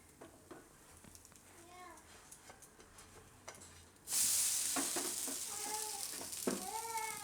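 Raw papaya handvo sizzling in oil on a pan, a sudden loud frying hiss that swells and continues steadily while someone talks.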